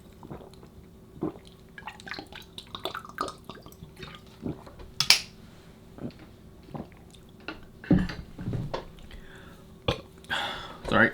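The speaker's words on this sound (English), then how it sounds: "Sorry, burp." A single short burp from a person drinking water, close and fairly loud, among small sips, drips and mouth noises during quiet pauses in speech.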